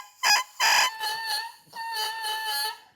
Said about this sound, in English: let's see if these reeds are a little bit too hard. I suspect they might be. Shall we crow them?